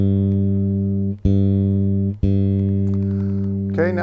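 A low bass guitar string is plucked three times and left to ring out evenly each time while being tuned with a tuner.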